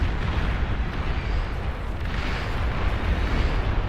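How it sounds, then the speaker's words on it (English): Dense, continuous rumbling blasts fill a real-time strategy battle in Beyond All Reason, with booms overlapping into a steady roar and no voices on top. "There's some lovely explosions though. This game does have very nice explosions."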